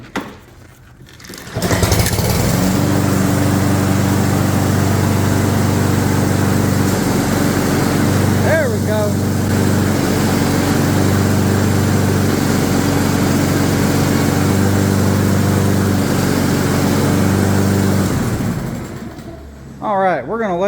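A Husqvarna AWD self-propelled lawn mower's small engine runs steadily and loud while the mower drives along after a drive-belt tension adjustment, someone speaking over the constant drone.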